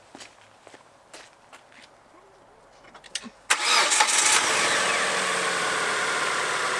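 A car engine cranks and catches after a few quiet footsteps and clicks, then settles into a loud, steady running drone close by.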